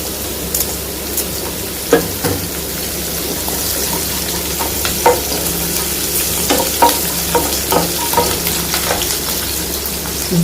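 Green chillies fry in hot oil in a pan with a steady loud sizzle, while a spoon stirs with scattered light scrapes and taps, close up and with no voices.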